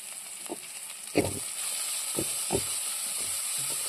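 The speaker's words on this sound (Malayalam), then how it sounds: "സവാള ഒരു ബ്രൗൺ നിറമാകുന്ന വരെ നമുക്ക് ഒന്ന് മൂപ്പിക്കാം" Sliced onions, crushed ginger and garlic, and curry leaves fry in oil in a pan for Kerala chicken curry, giving a steady hiss and sizzle with a few louder crackles and stirring scrapes, and no voices.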